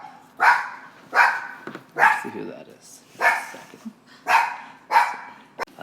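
A small dog barks repeatedly in a steady series of about six sharp barks, close and fairly loud, with a person speaking briefly alongside.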